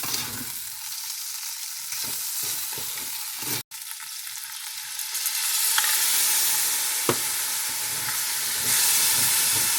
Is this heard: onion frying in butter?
yes